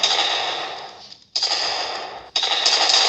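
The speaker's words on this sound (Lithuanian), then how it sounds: "Aš čia kažką šaudau" Rapid automatic gunfire bursts from a video game, loud and close, in two long sustained volleys split by a brief silence.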